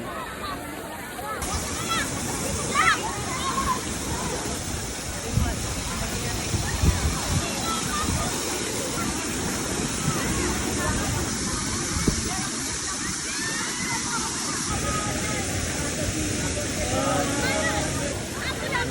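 Ragatan Falls in Maragondon, Cavite, a steady rushing waterfall roar with splashing from people bathing nearby and voices chatting over it.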